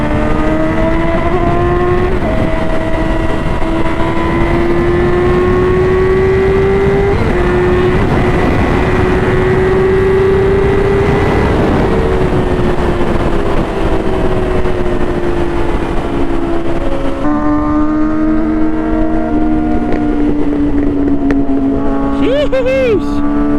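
Sport motorcycle engines on a fast group ride with litre bikes such as an S1K, ZX10R, GSXR1000 and CBR1000, roaring loud and steady throughout with rising and falling revs and heavy wind rush.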